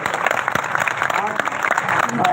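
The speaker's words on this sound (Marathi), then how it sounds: "सर्वांनी आपण जोरदार टाळ्या वाजून त्यांचं स्वागत" An audience at a live gathering in Tirthpuri claps for Manoj Jarange Patil, a dense burst of applause heard under a voice speaking over it.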